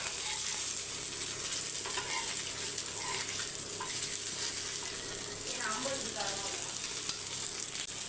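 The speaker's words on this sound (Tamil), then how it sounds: "எல்லா மீனும் வறுத்துட்டு உங்களுக்கு காட்டுறேன்" Fish frying in a pan of hot oil gives a steady, close sizzle that holds evenly throughout, with faint stirring clinks and bubbling and no talk.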